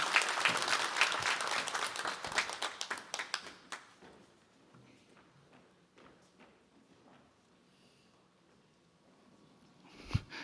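Church members at a Sunday worship service break into loud, thick applause that gradually thins and dies away after a few seconds, leaving scattered light taps and near-quiet, with a brief bump of noise at the end.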